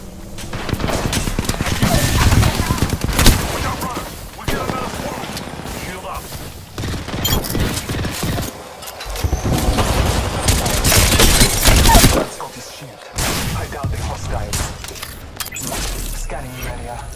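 Gunfire in an Apex Legends battle comes in loud, rapid bursts and volleys, stopping briefly and then starting again, mixed with game effects and a voice talking.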